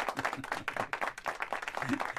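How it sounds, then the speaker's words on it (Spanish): A small group claps and applauds briefly, the claps brisk and close, with a little talk mixed in. "vamos a darle un aplauso a, la morcilla de Junior Labram."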